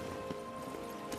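Horse hooves gallop in The Witcher 3: Wild Hunt, Blood and Wine, as a brief run of rhythmic clip-clop beats over a low game background, fairly faint and with no talking.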